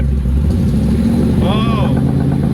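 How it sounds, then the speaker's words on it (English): An engine in a pickup revs briefly while the flywheel shakes it with an unbalanced vibration, a steady low rumble with a short rising rev midway, close and loud, under people talking. "So what's this vibration? It's your flywheel. You gotta rev it?"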